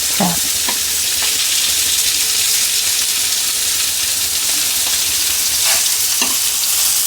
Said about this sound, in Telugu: Shallow fry.